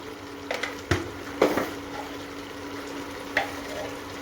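Chicken frying in a pan with salt and ground red chilli, a steady close sizzle punctuated by a handful of sharp spoon scrapes and knocks against the pan.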